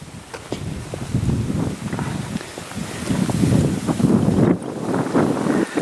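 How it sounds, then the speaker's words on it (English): Strong outdoor wind buffets the microphone in a steady, loud roar with gusting swells and low rumbling, continuous throughout with no talk. "the wind is picking up"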